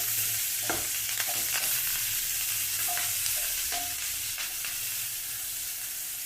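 Onions and curry leaves frying in a pan for a Karnataka-style okra palya, with a steady loud sizzle and a spoon scraping and stirring through it at intervals, no talking.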